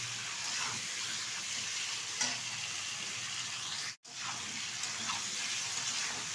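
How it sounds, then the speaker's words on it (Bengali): Hilsa fish pieces rubbed with a little salt sizzle in oil in a wok, with a steady hiss and occasional scraping stirs. The sound breaks off abruptly for a moment partway through. "হালকা একটু লবণ মাখিয়ে নিচ্ছি আর এটাই ঢেলে দিচ্ছি কড়াইতে। একটু নেড়ে চেড়ে নেব"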